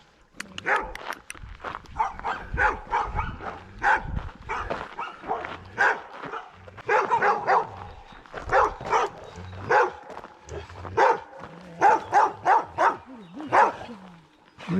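Several dogs bark behind a gate beside a ridge-top hiking trail on the Coteau de Moraye in the Royans, giving close, loud, overlapping bursts of barking with some yips and whimpers that keep going throughout.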